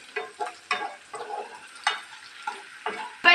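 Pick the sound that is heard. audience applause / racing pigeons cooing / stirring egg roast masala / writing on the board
stirring egg roast masala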